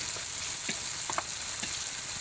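Masala spice paste stir-fried in a pan, a continuous bright sizzle close up with soft scraping and clicks from the stirring, fairly quiet and steady, no talking.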